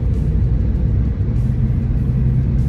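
A Toyota GR Supra MK5 A90 cruises on a test drive, heard from inside as a steady, loud low engine and road rumble with no clear revving peaks, unbroken and without voices.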